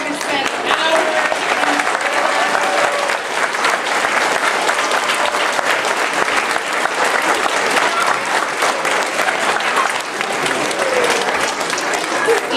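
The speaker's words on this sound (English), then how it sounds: "So we just wanted to give Miss Page a round of applause because she spent hours." An audience at an elementary school play gives a teacher a sustained, loud round of applause, with dense clapping and voices and cheers mixed in throughout.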